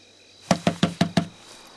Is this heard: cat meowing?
no